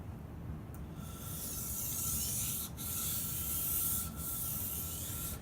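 Knife being sharpened by hand on a 1,000 grit whetstone, a soft gritty rubbing that sweeps back and forth in long strokes with brief pauses between passes, close and fairly quiet with no talking.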